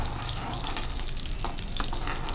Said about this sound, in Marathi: तुपावर चांगलं आपण ही लापशी भाजून घेऊ